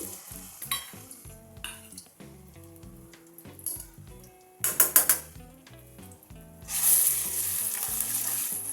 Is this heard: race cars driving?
no